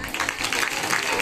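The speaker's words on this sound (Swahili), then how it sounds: "Makofi." Applause at a community HIV/AIDS awareness gathering, a steady dense patter of many hands clapping for just over a second, fairly close and even in loudness.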